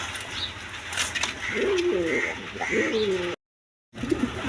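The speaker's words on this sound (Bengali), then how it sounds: "এখানে এক পেয়ার কবুতর আছে দেখেন" Mondian pigeons in a large cage coo in a string of close, throaty rolling calls, several overlapping, with brief wing movement and a moment of silence near the end.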